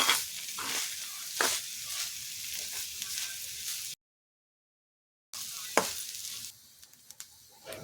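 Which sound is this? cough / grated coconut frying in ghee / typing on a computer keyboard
grated coconut frying in ghee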